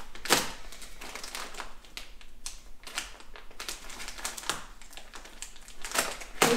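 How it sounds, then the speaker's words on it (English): Scissors snip through a mattress being cut in half during a stone barn bedroom conversion, giving a run of close, irregular crunching cuts and rustles with no talking. "cut the mattress in half."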